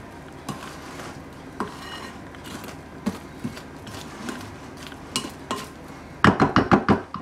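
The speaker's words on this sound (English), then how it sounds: "I'm just going to make sure that everything's scraped off the sides." A utensil scrapes cookie batter from the sides of a mixing bowl, giving scattered soft scrapes and light taps, then a quick run of louder clinks against the bowl at the end.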